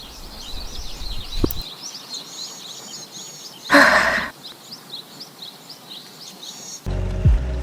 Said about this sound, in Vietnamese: chỉ có tiếng suối cùng tiếng chim hót ríu rít hòa cùng tiếng gió ngàn lao